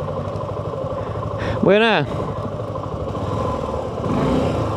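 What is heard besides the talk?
motorcycle engine while parking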